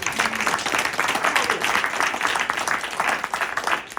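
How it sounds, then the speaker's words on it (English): Audience applause after a post-show discussion of the play Apeirogon, dense and steady clapping that fills the room for several seconds, with faint voices mixed in. "Can we give him another hand of applause?"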